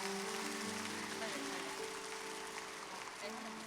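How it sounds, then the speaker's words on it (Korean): An audience at a Korean church Korean War memorial service gives steady, sustained applause as speakers come up onto the stage, a dense even clapping from a crowd with faint voices underneath. "올라올 때 큰 박수 부탁드립니다"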